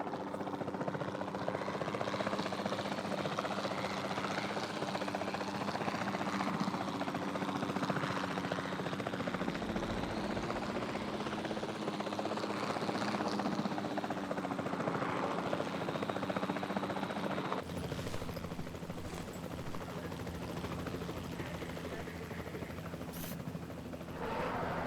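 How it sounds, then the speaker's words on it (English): Capture team helicopter in Jurassic World Evolution 2, a steady loud rotor drone with engine hum running throughout, slightly quieter in the last stretch, with no talk over it. "Then the sensible thing is to take a capture team helicopter."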